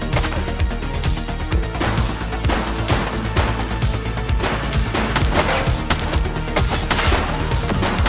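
Rapid, sustained gunfire fills a shootout in the video game The Precinct, with dense overlapping bursts and crashing impacts running loud and continuous throughout.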